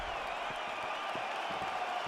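An arena crowd in the EA Sports UFC fighting video game roars and cheers steadily between rounds, a continuous broad wash of noise at moderate level.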